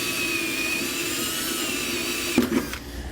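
A power drill bores pilot holes in a 2022 Chevrolet Silverado's frame while fitting a B&W custom installation kit base rail, a steady close whine that ends in a few short bursts.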